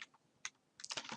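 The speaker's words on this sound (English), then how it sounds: "I can type in" Keystrokes on a computer keyboard while entering text in Word 2016, a few isolated taps and then a quick burst of typing, close and crisp, with no voices.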